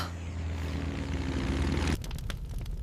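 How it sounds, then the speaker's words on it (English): A propeller aircraft drones steadily overhead with a sustained engine hum for about two seconds, then cuts away to rustling outdoor sounds. "I hear a plane!"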